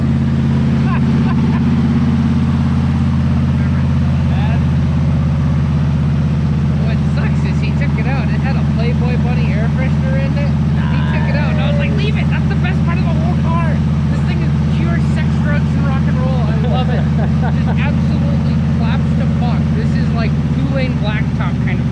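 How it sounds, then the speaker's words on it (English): A 1966 Buick Skylark engine idles steadily with a deep, rough burble from an exhaust leak and no muffler, loud and close, while people talk over it throughout. "It sounds really good. it's got an exhaust leak."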